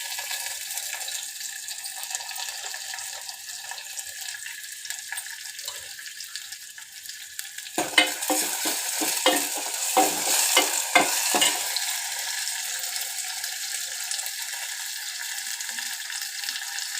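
Onions and curry leaves fry in oil for aloo fry, a continuous loud sizzle with a burst of rhythmic stirring and scraping near the middle, no voices.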